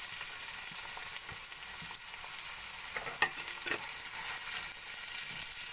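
Sliced onions fry in a pan over low heat with a soft, continuous sizzle. Occasional stirring clicks and scrapes are heard, with no voices.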